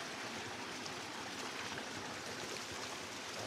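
A mountain stream runs along a trail in the Slovak Tatras, making a constant, soft, even wash of rushing water without breaks.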